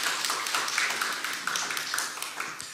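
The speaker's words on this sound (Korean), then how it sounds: "다시 한번 우리 축복의 박수 보내도록 하겠습니다." A church congregation at a Sunday worship service claps together in blessing, a brisk, dense patter of many hands at moderate distance, steady and unbroken throughout.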